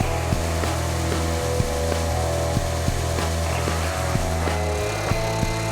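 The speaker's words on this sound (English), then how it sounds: "Over at the edge sander, I sand right up to the line." An edge sander works a wooden deer wall pedestal mount, its steady loud motor drone running throughout with periodic bumps and changes in load as the wood is pressed against the belt.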